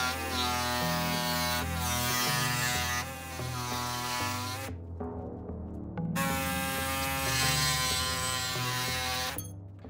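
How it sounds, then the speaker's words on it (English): A pneumatic air saw cuts a clamped piece of a kit aircraft tailcone, buzzing loud and close in two long bursts of steady, harmonic whine, separated by a short pause. "I think for this task, I'm gonna use my air saw."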